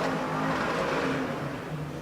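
A dirt-track race car engine at Orange County Fair Speedway drones and revs steadily nearby, unable to get into gear, a continuous loud mechanical roar without clear shifts.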